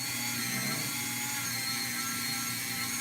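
A steady, high-pitched rotary tool whines without a break while cutting the slots and propeller blade of a handmade fishing lure spinner, close and continuous, with no talking.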